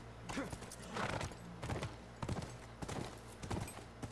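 Rhythmic clip-clop of horse hooves at a trot in The Last of Us video game, steady and fairly quiet, with a faint whinny mixed in.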